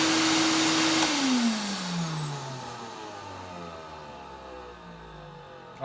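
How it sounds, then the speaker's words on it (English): A vacuum cleaner motor runs at a loud steady whine for about a second, then is switched off and winds down, its pitch sliding steadily lower as it fades over several seconds. "Motor winding down."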